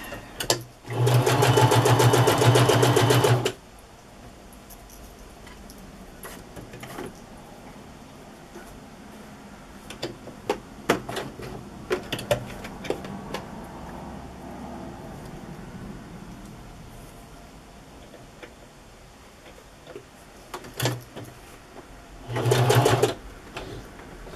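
A malfunctioning sewing machine runs in a steady loud burst for a few seconds, then quiet handling noises, and a second short burst of stitching near the end.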